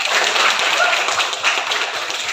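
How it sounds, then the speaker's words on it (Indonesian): Classroom applause for a student, a short burst of dense clapping from a group heard close and alone. "Berikan tepuk tangan untuk Alna."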